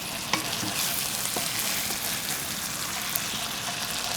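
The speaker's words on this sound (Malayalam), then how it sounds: "ഒന്നും കൂടെ ഇളക്കുക." Quail thoran cooks in a pan with a soft, continuous sizzle, broken by a few light clicks and scrapes from the spoon as it is stirred; no voices.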